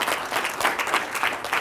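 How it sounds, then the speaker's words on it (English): Brief burst of audience clapping as a presenter is welcomed to the stage at a 1 Million Cups event in Sedalia, a short, fairly close round of applause. "Let's give Sarah a great round of applause"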